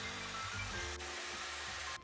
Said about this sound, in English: Now get a blow dryer. Diffuser on.